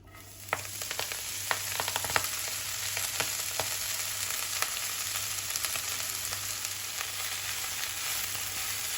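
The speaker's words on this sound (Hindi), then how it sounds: "अब ये जो घी और तेल बचा है इसमें हम मेथी को फ्राई कर लेंगे।" Fenugreek leaves frying in leftover ghee and oil, a soft continuous sizzle with scattered light taps of stirring, fairly quiet and with no voices.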